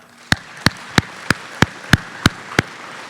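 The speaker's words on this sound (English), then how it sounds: "let's give one more round of applause to our new inductees" Eight sharp, evenly spaced single claps ring out at a slow, steady rhythm, close and distinct, at a farm luncheon honoring new inductees.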